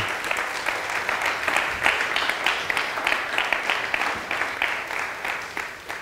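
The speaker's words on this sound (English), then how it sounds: "Let's give God a great hand clap of praise." A church congregation claps together in a steady, rhythmic burst of applause in praise that carries on for several seconds before easing off.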